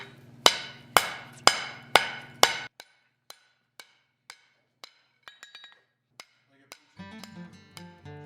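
A hammer strikes a piece of 3/4 inch square steel bar being forged into a dragon head, five loud ringing blows in steady rhythm, then lighter scattered taps on the anvil and a final burst of clinking.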